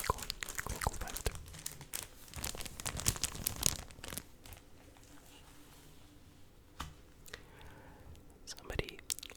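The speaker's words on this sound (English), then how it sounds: "this bag has good crinkling, good crinkle factor" A plastic comic book bag crinkles and crackles in close, dense bursts through the first few seconds, then softens to sparse rustles with occasional sharp crinkles; soft whispering runs underneath.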